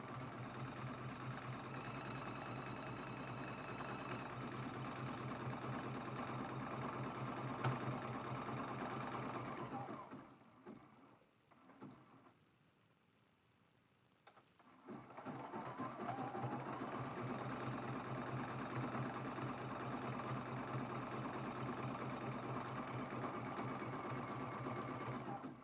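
A sewing machine runs a wide, loose zigzag stitch along the edge of a quilted mug rug. It chatters steadily and close, stops for a few seconds midway, then resumes.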